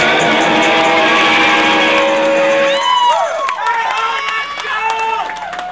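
Live rock club audience at The Empty Bottle in Chicago clapping and cheering for an electric guitar, a dense wash of applause and shouts that fades after a few seconds, leaving scattered whistles and calls.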